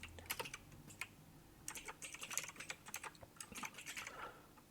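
Rapid clicking keystrokes on a computer keyboard come in irregular bursts with short pauses, close and soft, with no talking.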